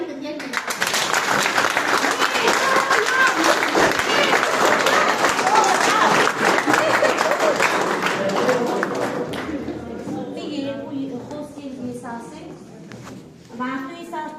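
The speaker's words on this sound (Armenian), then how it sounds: "առանձնագի շնորհավորենք ու ծափահարենք" Audience applause at a graduation ceremony: dense, loud clapping from a large crowd that holds steady, then thins and fades toward the end as a voice begins speaking.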